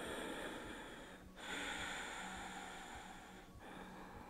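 Slow, audible breaths in and out during a yoga pose, two long exhalations with soft airy noise and a slight snort, close to the microphone over faint hiss.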